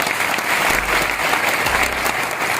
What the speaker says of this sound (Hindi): जोरदार तालियां आप सभी लोगों के लिए।